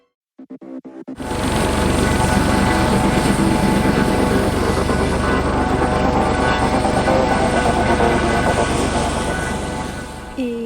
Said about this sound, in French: Et hop, tout doux l'hélico. On va se poser tout en souplesse. C'est bruyant, mais c'est royal comme transport ce petit engin.